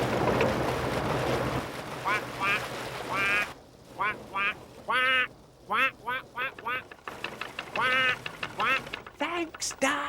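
A duck quacks in several short bursts, then in quicker repeated runs, close and clear over a low rumble of water and a boat.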